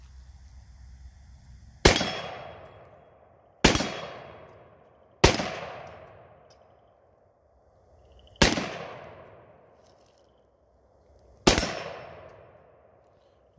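Five loud single gunshots from a .50 AE Israeli Desert Eagle pistol, spaced a second or few apart, each a sharp crack with a long decaying ring, fired outdoors with no talk.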